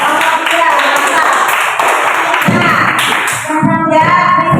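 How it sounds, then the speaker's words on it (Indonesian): Classroom of students clapping for group three, with a burst of applause that rises, dips briefly, then picks up again alongside excited children's voices and chatter. "Tepuk tangan untuk kelompok tiga ya."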